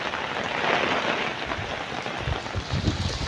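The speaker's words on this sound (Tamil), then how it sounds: "நல்ல மழை ஒன்று பெய்யுது" Heavy rain pours down steadily in Puttalam, a dense continuous hiss of drops drumming on surfaces close by, with some low rumbling patter building near the end and no voices.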